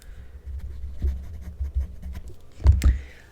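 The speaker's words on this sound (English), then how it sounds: "Let's write that down." Pen writing down a tailoring measurement for a wedding suit, a soft scratchy run of strokes close to the microphone, ending in a couple of louder taps or scrapes.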